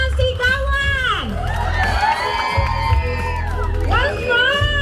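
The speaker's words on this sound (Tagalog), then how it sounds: "Palakpakan po natin! Na may kasamang sigawan!" A crowd at a provincial wedding celebration in Batangas bursts into cheering, whoops and shouting that holds steady for a few seconds, with a loudspeaker voice talking over it.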